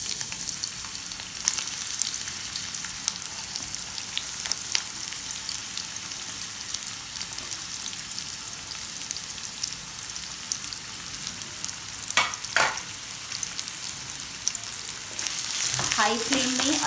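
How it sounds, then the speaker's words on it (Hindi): Onions fry in hot oil over a high flame for Hakka noodles, a dense, continuous sizzle with a couple of stirring scrapes near the end. "हाई फ्लेम में अनियन को थोड़ा सा रोस्ट करना है"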